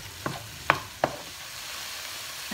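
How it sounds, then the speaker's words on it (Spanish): Tomato and cilantro salsa is stirred in a pan, with a few soft scrapes and clinks of the spoon over a faint sizzle. "Vamos a revolver todo muy bien para que los sabores se integren."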